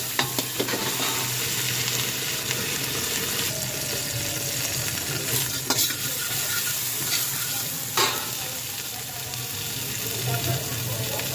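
Tomatoes being stirred and fried in a pan for a pork and beans spaghetti dish, giving a steady close sizzle with scraping stir strokes and a faint running-water hiss behind.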